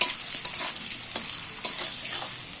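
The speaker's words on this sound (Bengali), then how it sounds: "এইবার আমি তেলটার মধ্যে নাড়াচাড়া করে ভেজে নেবো ভালো করে" Potatoes fry in oil seasoned with salt and turmeric, a steady close sizzle broken by a few soft scraping knocks as they are stirred in the pan.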